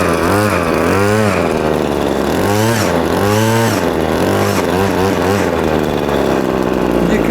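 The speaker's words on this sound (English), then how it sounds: "We've primed the engine, we've got the choke on, so let's give it a pull." Cobra LRH26C petrol long-reach hedge trimmer, primed with choke on, pull-started: its small two-stroke engine fires and runs with a rising and falling rasping drone, loud and close, without any talk.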